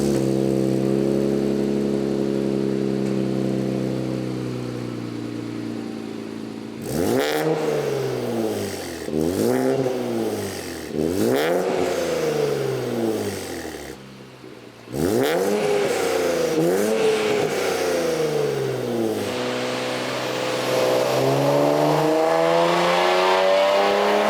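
A Nissan Z sports car with an upgraded exhaust idles, then revs hard in repeated rising-and-falling bursts, blips again after a brief drop, and settles into a roar.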